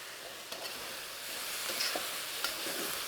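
Marinated pork fries in a wok with a steady, close sizzle and a few faint scrapes, no voices.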